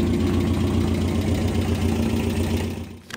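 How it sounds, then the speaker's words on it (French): A powerful car engine runs with a steady, loud, close rumble at idle in a film scene, holding a dense low drone before dropping away near the end, with no talk. "On entend le son du moteur bien énervé"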